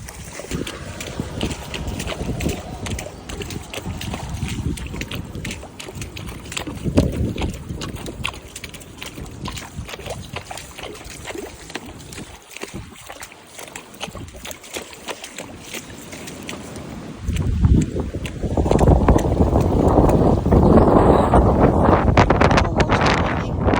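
Strong 40-mile-an-hour gusts buffet the microphone in a loud, rumbling roar that surges and dips, swelling harder near the end, with a horse's hooves on a road beneath.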